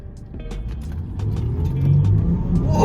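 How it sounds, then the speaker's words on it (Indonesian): A Range Rover Autobiography LWB 3.0 supercharged SUV engine rumbles and builds as it accelerates hard on a long empty straight, the deep roar swelling louder over a few seconds, heard from inside. "kita coba ya gimana akselerasi ini mobil"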